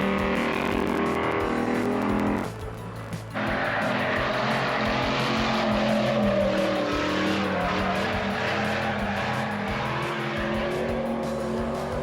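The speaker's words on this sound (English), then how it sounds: "We started the day off watching some Baja trucks do some drifting" Baja trucks drifting at the SEMA Show 2023: a loud, continuous engine roar with tire squeal runs throughout, dipping briefly for a moment before surging back to full volume.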